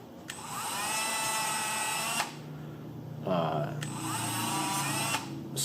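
Abrasive Scotch-Brite style wheel on a power tool grinding a piston ring, two sustained high whirring bursts separated by a brief pause with a short voice in between.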